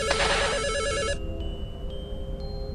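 A telephone in the horror video game Misao rings with a loud warbling electronic tone for about a second, then fades into a quieter ringing tail.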